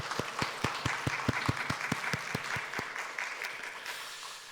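A congregation at a Sunday church worship service claps together in a steady, even rhythm, loud and close, with no talking over it.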